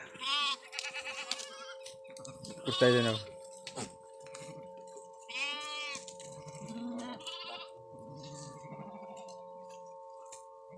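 Sheep in a flock of about two hundred bleat close by, mixed with people talking and a steady electronic tone humming in the background.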